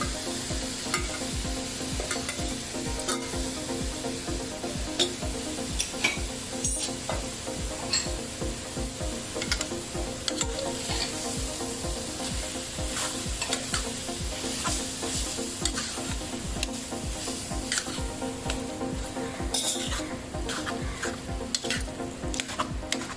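Boiled gongura and meal maker curry sizzling in a pan while a spoon stirs in rapid, regular scraping strokes, close and continuous with no speech.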